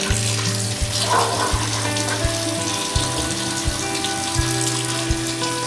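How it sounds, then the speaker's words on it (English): Running water from a tap splashing over tie-dyed fabric being rinsed, a steady hissing stream with irregular sloshing and soft handling thumps as the cloth is worked under it. "will wash them under the running water one by one"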